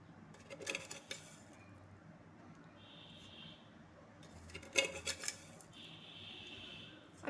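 Spoonfuls of sugar added to a lychee drink for ice cream, a few faint clinks and scrapes of a spoon against a container in two short bursts, close but quiet.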